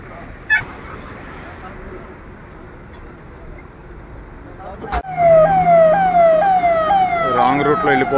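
An ambulance siren wailing in rising sweeps, close and loud, stuck in a heavy traffic jam at a toll plaza on the Hyderabad route, entering suddenly midway after a quieter stretch of traffic noise and brief talk, with a horn underneath.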